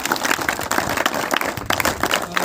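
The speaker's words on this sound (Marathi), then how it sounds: "तर दत्ता लांबसाठी सर्वांच्या एकदा जोरदार टाळ्या होऊन जातात." Enthusiastic audience applause at a Marathi-language gathering, dense clapping from many hands sustained evenly throughout, fairly close and loud with no talking over it.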